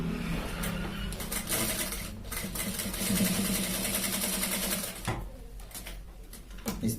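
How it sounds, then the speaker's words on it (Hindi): A sewing machine runs steadily, stitching around a shirt collar, its close, even mechanical whir holding for about five seconds before cutting out into quieter handling noises. "यहाँ पर हम सिलाई चलाएंगे"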